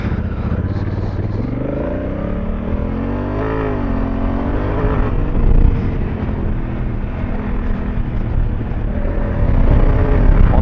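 A Honda Africa Twin motorcycle is ridden on a test ride, with a loud, continuous engine drone and rising tones as it pulls and accelerates, mixed with steady wind rush.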